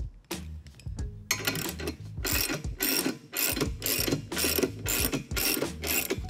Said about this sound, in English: By turning the jack bolt, we create that quarter inch or half inch of spread needed to swap this valve out